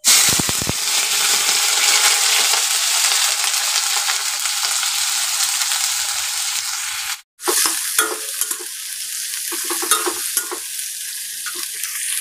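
Dried chillies, onion, garlic and chopped green chillies fry in a pan with a loud, close, continuous sizzle, broken by a brief silence midway and some stirring scrapes afterward.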